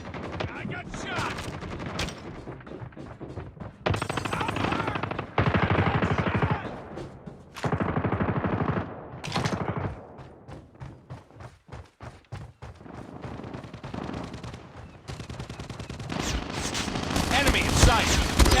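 Rapid machine-gun bursts and scattered gunshots in a Call of Duty match ring out loud and dense for most of the stretch, with brief lulls and game voice callouts mixed in.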